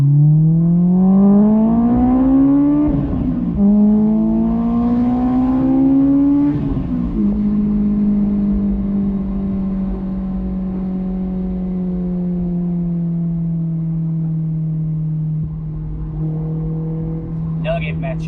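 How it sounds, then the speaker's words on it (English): A Honda S2000 inline four-cylinder with VTEC revs up twice in strong rising sweeps, then settles into a steady droning cruise, loud and close from inside the cabin, with a brief clatter near the end. "you can enjoy the sound of the car."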